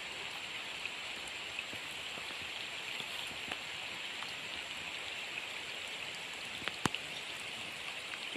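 Rain falls steadily at a river dam, a soft, even hiss of drops with a few louder isolated spatters, faint and distant, with no voices.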